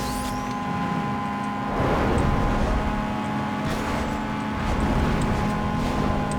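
A car engine in Need for Speed Underground 2 street racing holds a continuous loud drone with steady tones, swelling in short surges as it revs.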